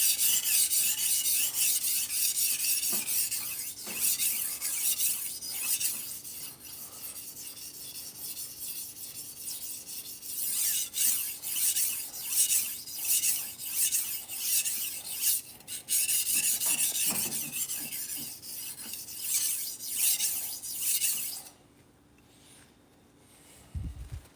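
A blade is sharpened on a stone to raise a burr, steady rhythmic rasping strokes repeated back and forth for about twenty seconds, fairly close, then stopping into quiet.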